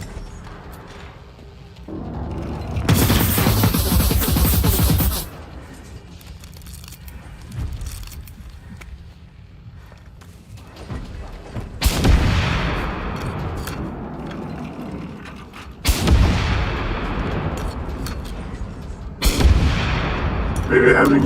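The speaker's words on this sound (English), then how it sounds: "Maybe having a muffled rocket launcher is as much of a benefit as I thought." A muffled rocket launcher fires in the video game Generation Zero: several loud, heavy blasts, each followed by a rumbling tail, separated by quieter stretches of background game ambience.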